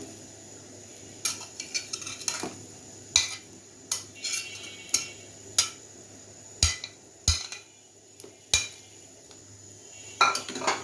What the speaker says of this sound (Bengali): এখন আমি এর মধ্যে দিয়ে দিচ্ছি তৈরি করে রাখা বলগুলো।